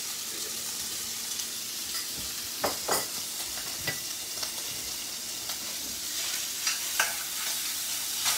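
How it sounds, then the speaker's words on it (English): Bacon renders down in a pan with a steady close sizzle, broken by occasional scrapes and stirs of a utensil and small pops, and no one speaks. "I'm going to render down some of this bacon"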